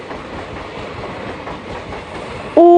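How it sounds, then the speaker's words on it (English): Steady train noise of a railroad car rolling on rails, a continuous rumble with rhythmic clickety-clack from the wheels that runs evenly from start to end and carries no voices. "Train."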